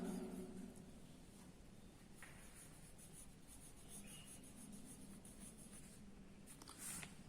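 Pen or marker writing a line-graph title on paper, soft continuous scratching and rubbing strokes close by over a faint steady background hum, no talking.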